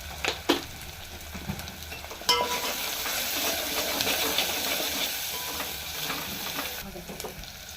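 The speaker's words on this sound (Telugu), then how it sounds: "ఇవన్నీ బాగా ఫ్రై అవుతున్నాయి కదా." Spices and a half spoon of turmeric fry in a pan, a steady close sizzle and hiss with occasional stirring clinks and scrapes, and no talking.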